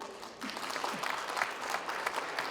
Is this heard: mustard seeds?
no